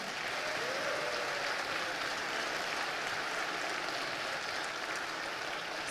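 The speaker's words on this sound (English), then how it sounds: "Let's give yourselves a round of applause again." A town hall audience in Atlanta applauds steadily for several seconds, a dense, even wash of many hands clapping that stays at a constant level, with no voices rising above it.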